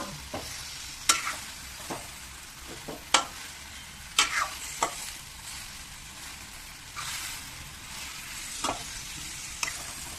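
Ridge gourd curry bubbles in oil in a pan under a steady sizzle, punctuated by a dozen or so sharp spoon scrapes and knocks against the pan at irregular intervals.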